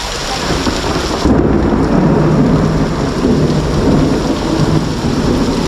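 Heavy rain pouring down in a Konkan village during a thunderstorm, a loud, dense, constant roar of rainfall with rumbling thunder underneath, no voices.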